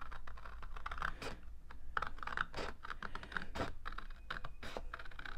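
Scissors fussy cut a pink cardstock card base, producing a steady run of close, crisp snips and scratchy paper-slicing strokes with a light hum beneath and no voices.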